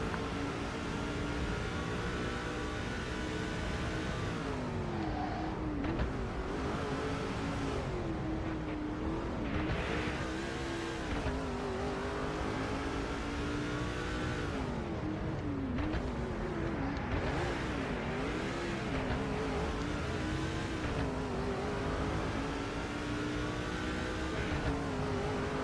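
Modified race cars in the Nascar 2005 Chase for the Cup video game drone around the track, engines whining and rising and falling in pitch continuously, loud and close, no talking.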